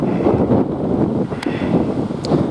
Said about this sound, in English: Jesus, that wind.